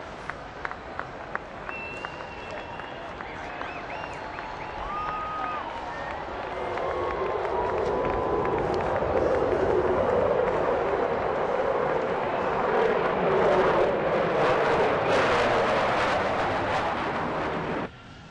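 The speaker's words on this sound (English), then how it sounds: "VX9 Vampires flying over the ballpark before the game from China Lake, California" Military jets, VX-9 Vampires out of China Lake, California, fly over a ballpark before a game, a broad roar that swells from about six seconds and holds loud to the end while the crowd cheers beneath it.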